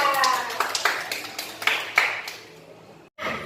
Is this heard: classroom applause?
yes